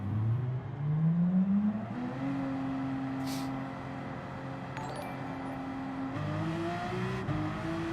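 Porsche race car in Gran Turismo 7 after a physics update, its engine droning and whining steadily through gear changes, with revs rising and dropping, loud and close, no one talking.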